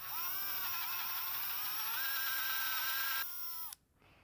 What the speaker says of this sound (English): we're just going to carefully drill on center using the drill guide.